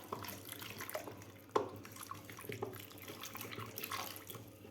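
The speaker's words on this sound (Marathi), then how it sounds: "आता आपल्याला हे आवळे धुवून घ्यायचे आहेत." Running tap water splashes over fresh Indian gooseberries (amla) being washed in a kitchen, with a steady faucet stream, small clinks and a louder knock near the middle; no one speaks.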